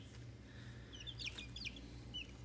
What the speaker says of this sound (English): So these are our first batch of homegrown meat birds.